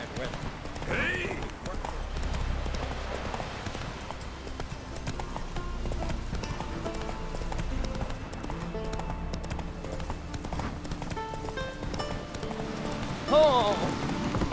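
Horse galloping in The Witcher 3: Wild Hunt on PC, a steady rhythmic clip-clop of hooves running beneath in-game character dialogue and ambient game sound.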